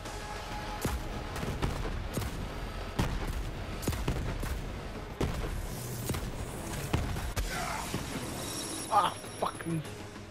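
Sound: gunfire from video game Borderlands 3

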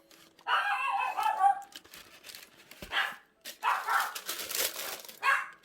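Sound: dog barking

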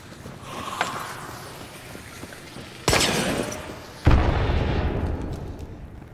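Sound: dynamite explosion in the video game Hunt Showdown

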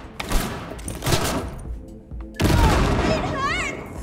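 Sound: grenade explosion and gunfire in Cyberpunk 2077 video game

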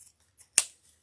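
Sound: scissors trimming a floral stem for a grapevine wreath

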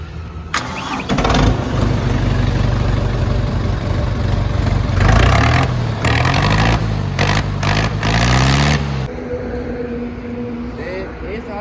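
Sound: tractor engine started and idling

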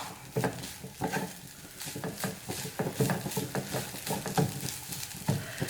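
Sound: stirring cooked dal into spinach stir fry

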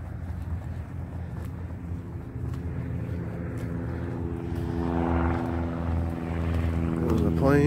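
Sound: airplane taking off

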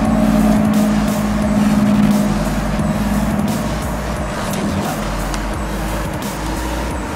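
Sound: twin turbo car engine running

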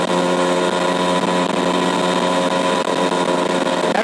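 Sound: Suzuki Max100 two-stroke motorcycle engine running

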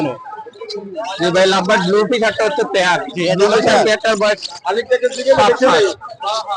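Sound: birds calling at a pet bird market

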